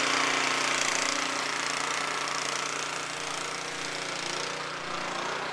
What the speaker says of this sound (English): Good thing for that snowblower.